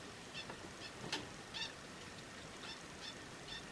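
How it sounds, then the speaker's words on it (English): Small zebra finch at least eight years old giving soft, faint peeps, a handful of brief high chirps spaced irregularly over quiet indoor room noise. "She is a zebra finch and she's at least 8 years old, and of course I just press record and she starts peeping."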